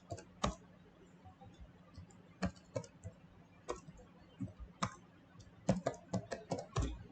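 Close, quiet typing on a computer keyboard while names are entered into an Excel spreadsheet, scattered key taps that quicken into a fast burst near the end, with no talk.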